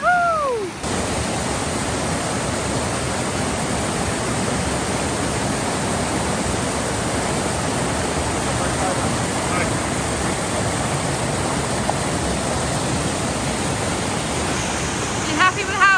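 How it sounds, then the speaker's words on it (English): Water rushing through a pipe on an off-grid water-to-electricity setup, a loud steady broadband roar that fills the whole stretch, with brief voices at the start and end. "it's pushing water through the pipe, which I'm happy about"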